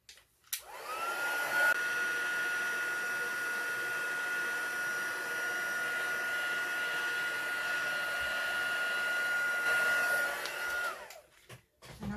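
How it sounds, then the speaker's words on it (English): A heat gun runs steadily for about ten seconds, drying pigment ink on a handmade Christmas card, with a smooth whirring blow and a faint high whine, switching on and winding down at either end. "I'm just going to bring my heat gun back and dry that."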